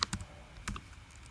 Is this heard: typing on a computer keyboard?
yes